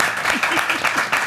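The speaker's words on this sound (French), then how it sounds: "Très bien, on peut applaudir." Studio audience applause on a French talk show, a brief burst of clapping close by with voices mixed in.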